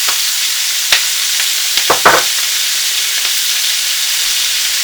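Onions, celery and carrots hitting a hot pan after beef has been browned, a loud, steady hissing sizzle with a few sharp clatters as the vegetables drop in and are moved around.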